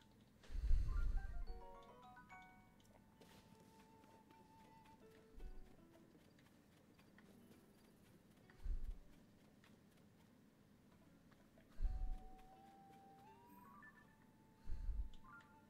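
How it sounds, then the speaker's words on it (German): Hooves of walking horses give a few soft clip-clop bursts spaced several seconds apart, faint against quiet background tones and beeps, with no talk. "So, Pferde."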